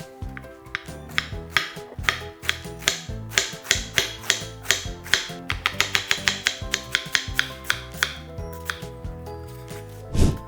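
A knife thinly julienning vegetables for a rainbow vegetable burrito, with rapid, crisp, close taps on a cutting board in quick irregular runs, sometimes in bursts and sometimes slower, and no talking.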